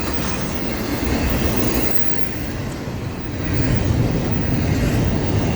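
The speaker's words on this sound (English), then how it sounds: "after this train goes by" A Florida East Coast Railway train rolls past nearby with a loud, steady rumble and rattle of wheels on the rails, and no voices.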